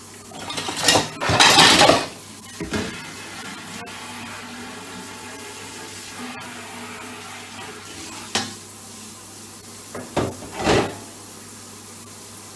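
Chopping boards and dishes handled in a home kitchen while making frittatas: several loud clattering bursts of plates and boards knocking together, separated by quieter gaps with a low steady hum.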